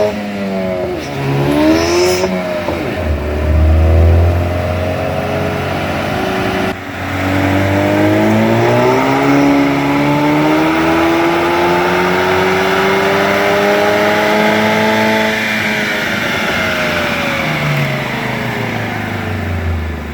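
A tuned 2016 Chevrolet Camaro with the 2.0-liter turbo four-cylinder revs on a dyno, its engine tone climbing steadily through a long loud pull after a brief earlier rev, with boost being cut near the top.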